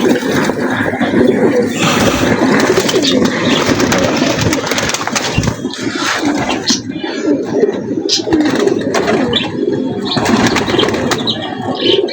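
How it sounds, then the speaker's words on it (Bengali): Pet pigeons, including a male breeder bird, coo nearby in a steady, layered chorus of low throaty calls, with occasional wing flaps. "আমাদের বিডার কবুতর, নর কবুতর"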